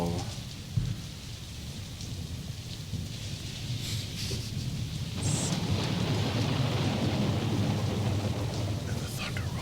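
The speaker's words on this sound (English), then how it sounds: "And the thunder rolls, Andy." Steady rain pours throughout with low rumbling thunder rolling underneath, the storm growing denser and louder after the midpoint; faint voices may murmur beneath it.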